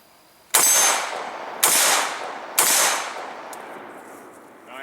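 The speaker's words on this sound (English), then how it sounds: "take a few shots on the steel" Three sharp shots from an IWI Tavor bullpup rifle each ring off a steel target, spaced about a second apart and loud and close, each blast trailing a short ringing decay.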